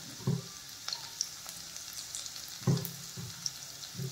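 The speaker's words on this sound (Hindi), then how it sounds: "सबसे पहले मैंने एक बड़ा चम्मच तेल में कटी हुई लहसुन डाली है। अब हम इसमें डालेंगे थोड़ी सी हरी मिर्ची।" Chopped garlic and a few green chilies frying in a large spoonful of hot oil, a steady soft sizzle with occasional louder crackles and spits, close up and without voices.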